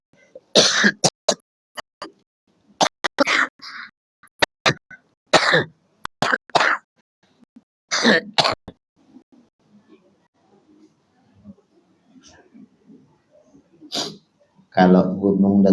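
Repeated harsh coughing fits, close and loud, with short bursts separated by quiet gaps and faint breathing.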